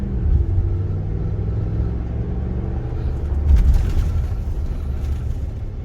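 A 2017 Ram 1500 truck fitted with a PowerStop Z36 front brake kit slows from 40 to 10 mph, giving a steady, loud low road and engine rumble that swells briefly near the middle.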